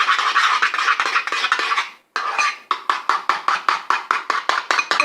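A utensil whisking a homemade liquid hair mask in a bowl, quick rhythmic clinking and scraping strokes, close and loud, with a brief pause midway before the steady beating resumes.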